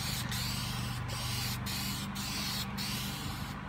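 Spray paint hisses in a series of short bursts with brief pauses between them, close up and steady in rhythm.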